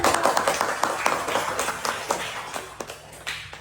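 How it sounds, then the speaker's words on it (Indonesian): Classroom audience applause during a university teaching session, steady rapid clapping from a small group that runs throughout and gradually thins toward the end. "kalau adik-adik berikan aplaus dulu"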